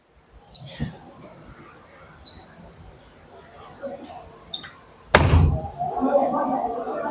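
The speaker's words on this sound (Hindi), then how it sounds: "मैं दरवाजा बंद करने जा रहा हूं, तुम बताना आवाज कब आई?" A door pushed shut in one solid thud, close and loud after a few seconds of faint room noise, with a brief lingering rumble afterward.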